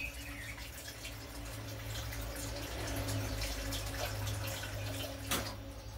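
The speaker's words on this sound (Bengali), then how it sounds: "ডালের জন্য নিয়ে নিলাম জল।" Water runs steadily from a tap into a pot for cooking dal, a continuous close splashing flow with faint dripping and a brief louder splash near the end, without any talk.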